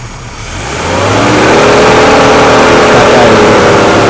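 A Mercedes W126 300SEL sedan's engine revs up from idle, rising over about a second into a loud, sustained high-rpm drone that holds steady, close by, with no voices.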